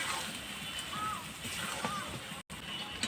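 Water sloshes and splashes into a pan of chicken and cauliflower curry masala, a soft continuous pour with gentle gurgling, heard close while someone talks over it.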